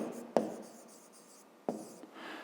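Pen or chalk writing out a math expression, with two sharp taps as strokes begin and then a soft scratchy scrawl, close and fairly quiet.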